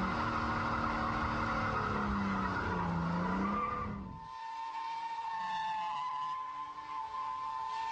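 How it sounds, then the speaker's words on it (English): Car tires screech and skid as the car spins donuts from a standstill in first gear with high revs and a dumped clutch, a loud continuous squeal over engine roar that cuts off abruptly midway, leaving fainter engine and tire noise. "First gear, loads of lock-on, loads of revs, and dump the clutch. And round it goes, instant donuts, instant joy."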